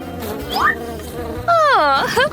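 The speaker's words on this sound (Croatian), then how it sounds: "tamo su pčele" Bees buzz loudly and close by in a kitchen, their drone swooping up and down in pitch in several sweeping passes.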